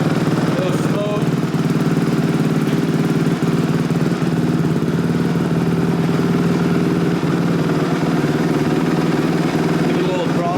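Twenty-year-old Honda CRF250X dirt bike engine idling steadily, a smooth, loud, even thrum close by that holds throughout, with a voice speaking over it.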